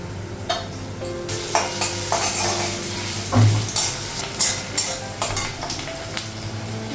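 Onion and green chillies fry in hot oil seasoned with panch phoron, a loud continuous sizzle broken by scraping stirs and clinks of a spatula against the pan.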